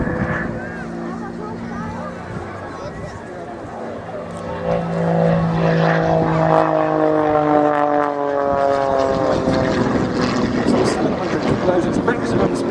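An aerobatic propeller aeroplane with a tuned 330 horsepower engine flying at an airshow, its engine droning steadily and rising in pitch and loudness as it passes nearer in the second half.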